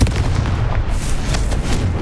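A Confringo blasting spell explodes in the video game Hogwarts Legacy, a loud, deep rumbling boom filling the whole moment with heavy low-end roar and no voices.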